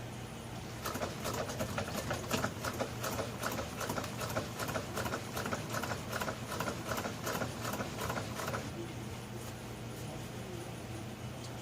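Sewing machine lock stitching golf cart upholstery, a fast rapid-fire mechanical clatter that runs steadily for several seconds before stopping, over a low constant hum.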